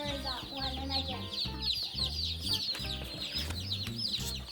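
Backyard chickens clucking and squawking up close in a busy, continuous chorus, with occasional voices of people nearby.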